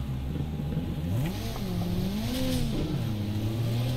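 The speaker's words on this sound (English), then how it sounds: "The amount of revving you do." A rallycross car in the Wildcrest Rallycross video game revs hard and unevenly, its engine pitch climbing and dipping in sweeping waves over a steady low drone, loud and close throughout.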